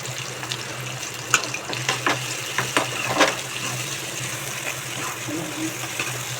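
Egg poriyal with cabbage and masala powder frying in a pan, with a continuous soft sizzle and intermittent sharp scraping and tapping of a spatula as it is stirred.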